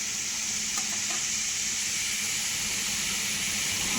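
Oil warming in a pan after chicken pieces are lifted out gives off a steady, even hiss with a faint sizzle, continuous and unbroken, with no talking.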